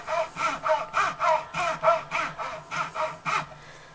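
A file rasps across the nut of a Jazz bass guitar in about eleven even back-and-forth strokes, close and crisp, with a steady rhythm and no talk.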